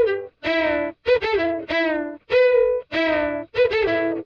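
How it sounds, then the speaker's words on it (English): A distorted electric guitar plays a sequence of separate, sustained notes with short gaps between them. The tone is thick and saturated. "just what that tube distortion and that tube compression can do to the signal"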